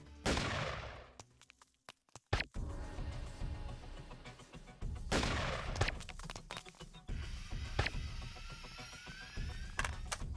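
Sniper gunfire in the video game Deus Ex Revision, several sharp, loud cracks with crashing impacts spread across a busy, noisy stretch of game sound.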